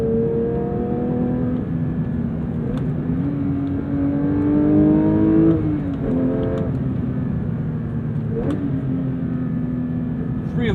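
A manual Porsche 992.1 GT3 engine revs while driving, a sustained tonal engine note rising and falling through shifts, heard from inside the car alongside someone talking.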